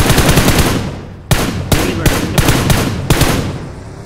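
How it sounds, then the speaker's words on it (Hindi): Loud bursts of rapid gunfire in the PUBG Mobile video game, a sustained volley followed by several sharp separate shots, close and echoing. "ईविल को गोलियां लग गई जल्दी"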